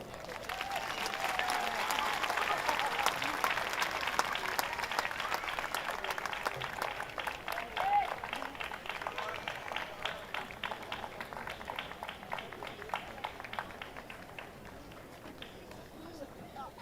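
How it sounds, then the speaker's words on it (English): An outdoor evening fiesta audience applauds honorees at an Old Spanish Days event, a broad, sustained wash of clapping from many hands that gradually thins toward the end. "Give them an applause, please."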